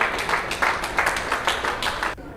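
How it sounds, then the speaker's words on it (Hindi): Doctors and hospital staff clap together as recovered COVID-19 patients are sent home from a medical college in Indore, a steady run of crowd applause with no talk, cutting off abruptly near the end. "तमाम डॉक्टर्स, पूरा स्टाफ उन्हें जाने के दौरान गुड लक बोलते हुए, ताली बजाते उन्हें विदा किया गया"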